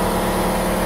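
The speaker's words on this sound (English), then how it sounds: "Thanks, Mr. Compressor." An air compressor runs beside a tire changing machine, a loud steady mechanical drone with constant hum, close and uninterrupted.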